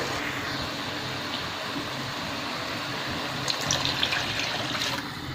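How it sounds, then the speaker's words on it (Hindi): Water pours in a steady, full gush into a pot of beef kofta curry, continuous and close, with a few clinks near the end. "इसके बाद हम इसमें पानी डालेंगे।"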